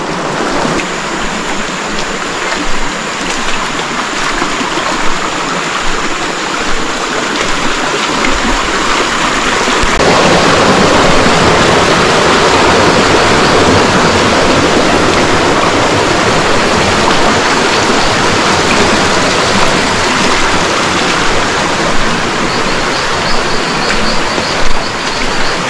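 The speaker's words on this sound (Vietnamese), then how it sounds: "Anh em đi xuôi theo suối mãi rồi." A mountain forest stream flows in a steady, loud rushing wash of water, unbroken for the whole stretch, with a faint high insect whine in the background.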